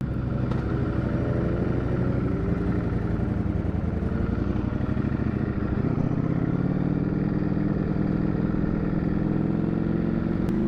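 A Ducati Streetfighter V4S motorcycle ridden on a racetrack, its engine droning loud and close without a break, the pitch rising and shifting as the rider accelerates, with no voices.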